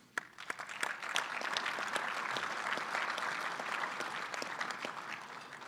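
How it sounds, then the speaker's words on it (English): An audience at a hockey award banquet claps steadily, a dense, moderately distant ovation that swells after a sparse start and holds for several seconds. "so round of applause"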